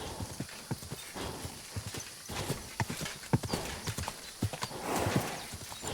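Horse hooves in the video game Kingdom Come: Deliverance II clop irregularly at a walking pace, moderately close, over a faint ambient background with occasional snorting.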